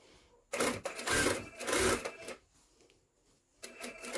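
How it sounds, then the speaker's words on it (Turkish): A sewing machine stitching the lining of a jacket sleeve, two bursts of rapid whirring stitches separated by a pause, close and fairly loud, with quiet handling noise between runs. "Şimdi buranın alabileceği kadar bir dikiş dikiyorum."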